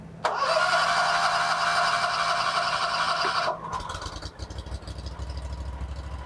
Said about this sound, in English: You bring your choke up until it cranks, or until you hear it fire, and you can push it back.